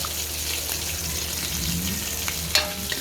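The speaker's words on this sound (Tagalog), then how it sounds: "So isusunod na natin ito, magigisa na tayo ng sibuyas." Garlic and then onion sauté in hot oil in a pan, a dense, steady sizzle up close with a brief clatter of stirring near the end.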